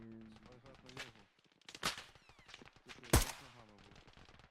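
Rapid bursts of gunfire in the video game Arma Reforger with sharp cracks, one especially loud shot near the end, over a busy background of game sounds and music.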